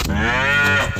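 A cow gives a single full, drawn-out moo, close and loud, tapering off after about a second with no talking around it.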